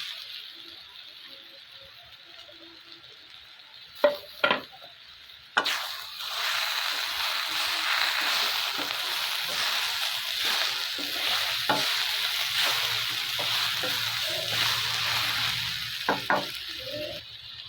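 Tomatoes and rasgulla stirring and frying in a pan with cabbage and rohu fish head, a steady loud sizzle after a few sharp clanks of the spoon, with occasional scraping knocks.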